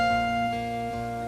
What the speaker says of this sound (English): It's the elevator coming up and down in the Woolworth store.